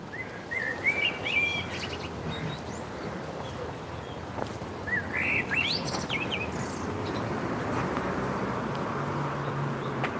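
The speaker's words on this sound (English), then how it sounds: "And that blackbird is going bananas." A blackbird sings loud, varied phrases close by on an outdoor walk through a historic town, bursts of song coming in clusters over steady background traffic and wind.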